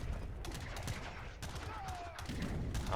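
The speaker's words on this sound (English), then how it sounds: "there's cannons in the back, and they're just shooting freely" Dense, rapid gunfire and cannon blasts from a large free-for-all battle in Age of Empires III, in overlapping bursts that sound loud and continuous throughout.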